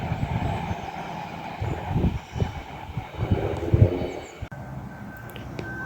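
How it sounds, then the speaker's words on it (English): Class 222 train 222-006 rumbles past up close, with heavy low clunks and thumps as its wheels run over the points, the noise swelling and easing in uneven beats. "222-006. Nice clunking over the points there."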